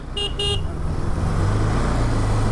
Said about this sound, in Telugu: మొత్తం ట్రాఫిక్ ఇక్కడ.